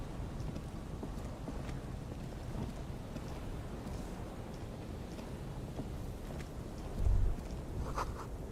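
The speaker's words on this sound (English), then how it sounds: "Gusty wind, the height feels dizzying." Gusty wind high up on a damaged structure in Disco Elysium, a steady broadband rush with a faint low rumble throughout and a brief stronger swell near the end, no voices.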